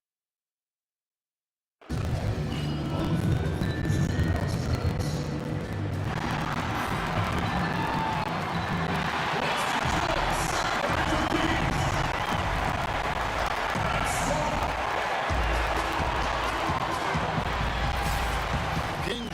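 Steady hometown crowd roar filling an arena in NBA 2K19, starting abruptly after a silent opening and holding at a constant dense level, with occasional bouncing and thuds beneath it.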